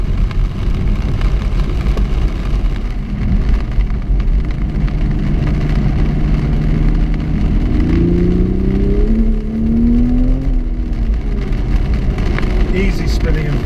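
Toyota GR Supra engine revving in third gear at speed on a wet road, a steady loud drone with rising engine pitch toward the end, mixed with road and spray noise and talk over it.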